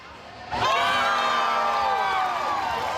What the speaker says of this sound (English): some of the visiting teams even brought their own cheering section